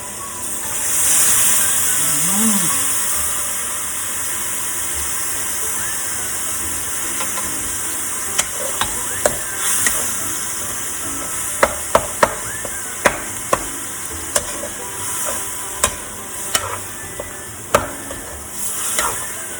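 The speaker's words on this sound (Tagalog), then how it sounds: "Kaya na muna natin kumulo siya ng kumulo." Fresh coconut milk boils in a pot for santol laing with a steady loud bubbling hiss, while sharp clicks and small knocks break through in the later part.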